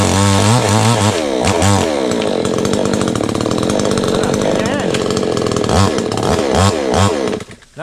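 Chainsaw cutting tree branches overhead, loud and near with a steady roar and repeated revving surges; people talk over it.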